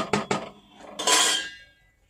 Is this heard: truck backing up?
no